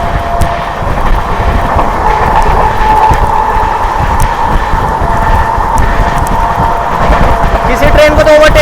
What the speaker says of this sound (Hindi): ये भाई अपनी अमृत भारत एक्सप्रेस किसी ट्रेन को ओवरटेक करके जा रही है।